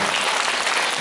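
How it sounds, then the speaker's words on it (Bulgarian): Dense, steady applause from a full audience at a children's gala concert in Ruse, a continuous wash of many hands clapping together at close range without a break. "Моля, аплодисменти за Доротея Балевска, за Вилио Комаров, за Наталия Константинова."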